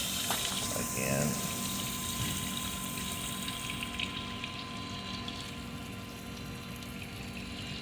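Water sprays off a spinning wet grinder wheel and drips inside its cover, giving a constant hissing wash over a steady motor hum that eases slightly toward the end.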